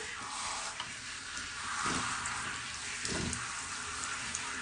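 Water runs steadily from a tap while hair is being soaked before shampooing, a soft continuous hiss broken by a couple of splashy bursts as the flow hits the head.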